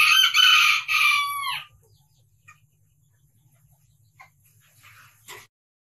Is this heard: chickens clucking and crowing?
yes